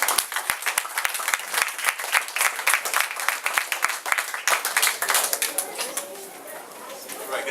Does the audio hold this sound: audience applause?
yes